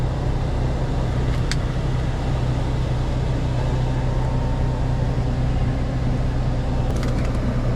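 Steady, even whoosh of the blower fan inside a 2002 Lexus RX300, a constant broadband roar running throughout with no voices.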